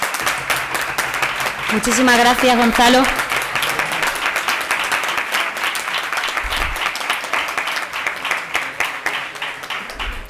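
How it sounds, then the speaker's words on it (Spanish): Audience applause at a university debate tournament final, a dense burst of clapping that swells near the start and continues steadily, with a voice speaking over it at the beginning. "os voy a pedir un aplauso para él"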